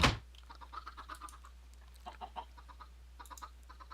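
Minecraft chickens cluck softly in a scattered series of short clucks, faint and close, after a brief sharp click at the start over a low steady hum.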